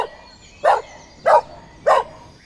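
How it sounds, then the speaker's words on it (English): A dog named Vegas barks three times at an even spacing, sharp and close, in a quiet setting with no talking. "Your dog's cute."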